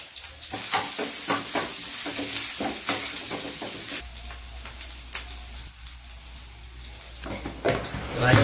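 Ginger-garlic paste dropped into hot tempering oil for dal sizzles with a steady, close, bright crackle, broken by repeated scraping clacks of a spoon stirring in the pan.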